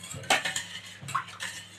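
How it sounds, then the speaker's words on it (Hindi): Ladle or spoon scraping and clinking against a large cooking pot while Punjabi-style kadhi is stirred on the gas, a few close, irregular metallic strokes with no talk. "इसको कंटिन्यू हम जब तक इसमें हल्का सा उबाल ना आ जाए कंटिन्यू चलाएंगे ताकि हमारी कढ़ी नीचे न लगे।"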